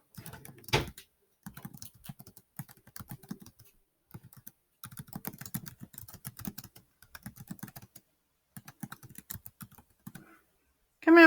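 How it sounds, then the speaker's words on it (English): Close keyboard typing in short bursts of quick clicks separated by pauses, with a sharp knock early on and a thud at the very end. "if I'm ever typing too fast for you"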